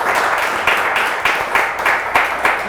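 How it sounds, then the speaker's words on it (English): A film industry audience applauds a panel with loud, dense, sustained clapping from many hands, a steady roar of claps with slight pulsing swells throughout. "Please give a round of applause to Betsy, Chris, Jim, and Jennifer for being with us."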